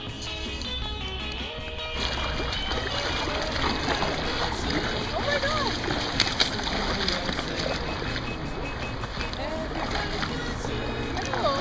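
Creek water sloshes and splashes around legs as someone wades through a shallow valley stream with shale banks, a close, steady, busy stream of water noise, with brief speech over it.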